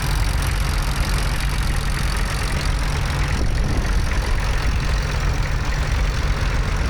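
A McCormick International B450 diesel tractor runs at a vintage tractor show, giving a steady, rumbling engine drone under broad outdoor noise. The engine sound is constant and fairly close, with no clear talking.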